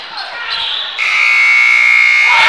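A game-end buzzer sounds at a boys' high school basketball game between Hinton and Watonga. It blares as a loud, sustained electronic tone over gym crowd noise, starting partway through and holding to the end.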